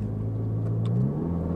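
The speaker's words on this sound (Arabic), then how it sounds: "المود سبور هو اللي كيعطيك البوب اند بانكس." Mini Cooper S with a 1.6 turbo engine running in sport mode, a steady low engine drone with a slight rise in pitch partway through, close and continuous, with no talk over it.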